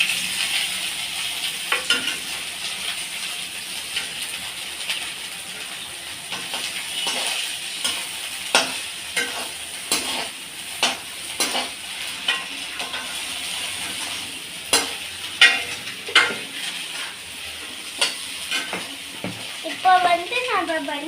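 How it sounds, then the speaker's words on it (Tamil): Okra (ladies finger) sautéing in a pan for curry: a steady sizzle and hiss with repeated scraping stirs of the utensil against the pan, close and fairly loud, with voice heard. "இப்போ வெண்டைக்காவை போட்டு வதக்கிட வேண்டியதுதான்."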